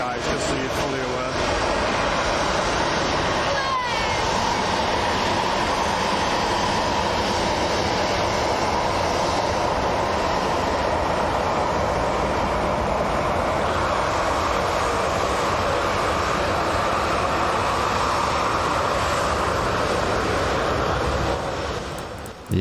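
An airliner engine idles at Manchester Airport with a brief touch of throttle, a broad continuous roar that holds steady throughout, heard at a distance.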